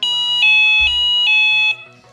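A Delkim carp fishing bite alarm receiver gives a loud electronic confirmation tone after programming: several close, clear high beeps in a repeating pattern, each held briefly, then stopping.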